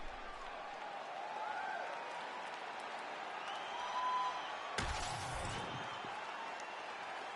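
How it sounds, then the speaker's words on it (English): Dense crowd noise from an MMA fight audience cheering and applauding between rounds, a steady roar throughout with a sharp burst of louder clapping and shouting partway in. "This crowd is going sick after what they saw in that previous round"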